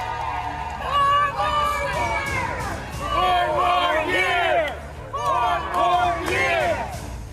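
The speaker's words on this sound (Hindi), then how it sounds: "अब ये भीड़ देख लीजिए, लोगों की ये भीड़ वॉशिंगटन डीसी की सड़कों पर उतरी है।" A dense crowd of Trump supporters marches through the streets of Washington DC, many voices shouting and chanting together in rising, surging waves over a steady low street rumble.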